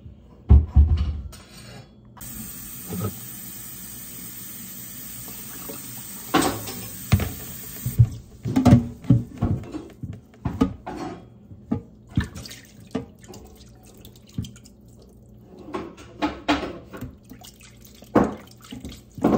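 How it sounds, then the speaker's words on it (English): Water running from a tap over a sink while something slimy is rinsed off with vinegar, with splashing, dripping and handling noises coming in uneven bursts close by. "I think I'm gonna use some vinegar to wash it off."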